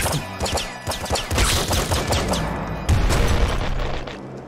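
Rapid volleys of gunshots from the top-down shooter Nuclear Throne, sharp cracks repeating in quick irregular bursts with booming low thuds, loud and dense throughout.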